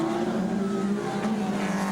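Race cars roaring past at the 1987 Bathurst 1000 on Mount Panorama, a sustained engine drone with a shifting pitch heard at a distance.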